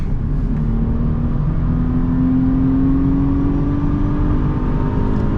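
A 2006 Mercedes CLK350 with a 272 hp engine accelerating hard uphill, a loud, steady, droning engine note with a slowly rising tone, heard from inside the car with no talking.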